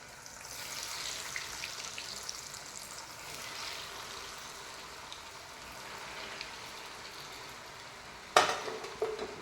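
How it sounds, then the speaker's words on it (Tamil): Vegetable cutlets deep-frying in hot oil, a steady soft sizzle and crackle running throughout, with a brief sharper clatter near the end. "நம்ம ஏற்கனவே ரெடி பண்ணி வச்சுருக்க இந்த கட்லெட்டை ஆயிலில் ஃப்ரை பண்ணி எடுத்துக்கலாம்"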